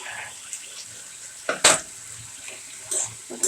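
Water is poured into a pan of frying spice paste for a pea curry, giving a short splashy hiss in the middle against a low, quiet background sizzle.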